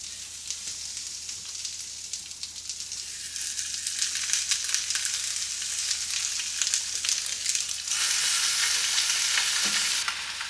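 Small smelt fish frying in oil on a hot Teflon grill pan, a close, loud, continuous sizzle that swells and intensifies partway through, with occasional crackles and no talk.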